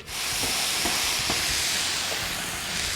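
Water hits a hot iron dosa griddle and erupts into a loud, sustained hiss of sizzling steam, up close, with faint crackles.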